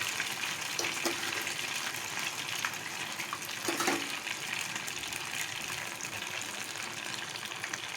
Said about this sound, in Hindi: और जो हमारा गरम गरम घी है वो भी डाल देंगे